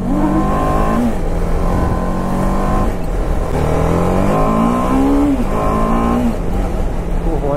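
A TVS RR 310 race motorcycle engine revs loudly up close, rising and falling through repeated throttle blips and climbing pitch sweeps over a constant rumble.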